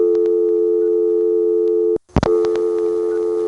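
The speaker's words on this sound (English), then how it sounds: "the sound of the first digit of telephone numbers that other customers are dialing bleeding through the dial tone" A steady dial tone from an ITT Pentaconta crossbar telephone switch in Asheboro, North Carolina, March 1977, broken by faint clicks and a sharp interruption as the first dialed digits of other customers bleed through.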